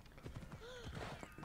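Horse hooves clip-clopping in a video game, a quick run of soft rhythmic knocks under game ambience with a brief whinny-like tone in the middle, faint and at mid distance.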